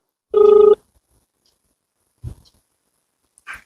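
A single short telephone ring tone sounds once, loud and close, before a call connects; a couple of faint soft knocks and rustles follow in near silence.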